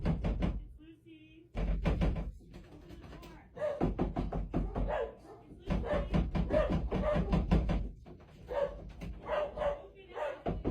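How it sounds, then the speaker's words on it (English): Aggressive knocking on a bedroom door comes in loud, repeated bursts, mixed with barking-like sounds and voices in a busy, cluttered recording. "she starts to hear aggressive knocking coming from her bedroom door"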